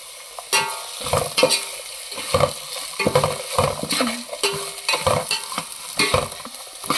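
A tempering for North Karnataka puffed-rice kallepuri is stir-fried in a pan, a close sizzle broken by repeated spatula scrapes and knocks in an uneven rhythm, with no voices.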